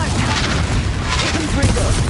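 The Confringo fire spell in Hogwarts Legacy erupts in a dense, loud booming blast, rumbling continuously under shouted voices amid chaotic combat noise.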